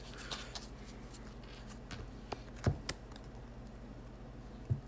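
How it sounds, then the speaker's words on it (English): A few sparse, soft clicks and light taps from a deck of square playing cards being shuffled, with quiet gaps between them against a low steady hum. "Have you ever shuffled perfectly square cards?"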